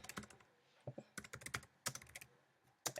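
Keys pressed on a TI-Nspire CAS calculator keypad, a quick irregular series of close, crisp plastic clicks in short bursts with brief pauses, no speech.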